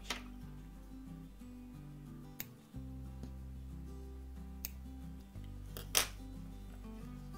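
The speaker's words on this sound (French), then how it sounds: "J'ai plus qu'à couper." Scissors snipping crochet yarn, a quick faint cut or two over steady background music with soft ticking handling sounds.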